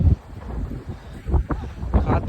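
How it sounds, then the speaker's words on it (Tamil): Strong wind blows inside a wind turbine, gusting in uneven buffeting bursts with low rumbling surges, loud and close to the microphone. "காற்று பயங்கரமாக அடிக்குது."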